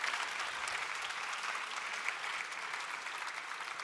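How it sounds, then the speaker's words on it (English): Steady applause from a conference audience for speaker Diana at a Python developers' event in Berlin, dense and even from start to finish with no voices standing out. "Warm applause again for Diana."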